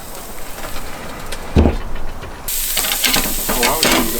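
Chicken sizzles on a PK charcoal grill, a steady broadband hiss that swells louder partway through, with a brief clatter of handling and a quiet voice nearby.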